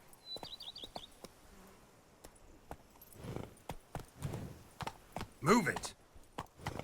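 Horse hooves clop irregularly on the ground in The Witcher 3: Blood and Wine, a series of soft, fairly close thuds amid faint ambient insect buzzing, with a voice speaking briefly.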